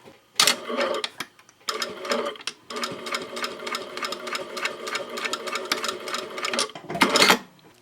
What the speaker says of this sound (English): I'll scoot down to where the other pin is and top stitch over that other section